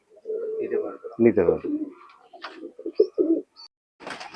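Pakistani pigeons coo close by in short, broken calls mixed in with a man's speech.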